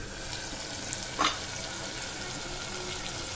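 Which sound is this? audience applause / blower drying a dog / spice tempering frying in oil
spice tempering frying in oil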